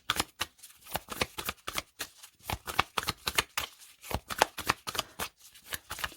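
Tarot cards are shuffled and drawn in a quiet room: rapid, close papery riffles and flicks in uneven bursts, soft but crisp, with no voices.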